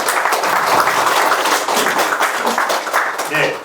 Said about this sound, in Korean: 많이 격려를 하시고 박수를 쳐주시기를 부탁을 드립니다